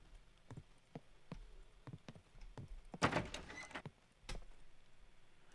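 A door closes inside the SCUM survival video game, a single thump against faint ambient game noise and scattered quiet footstep-like knocks.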